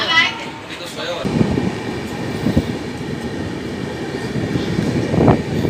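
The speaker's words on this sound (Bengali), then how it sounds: "ট্রেন ক্রস করছে এখন ডানকুনি জংশন" A train rumbles loudly and steadily through Dankuni Junction, with heavy clattering thumps from the wheels and a brief high squeal near the start.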